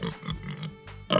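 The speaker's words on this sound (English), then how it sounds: "Pig sound is oink." A pig grunts and oinks in a few short, close, nasal bursts over about a second, with a brief pause before a final louder grunt.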